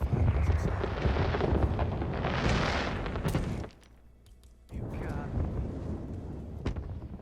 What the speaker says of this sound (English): TimeCube also starting off immediately with the fireworks.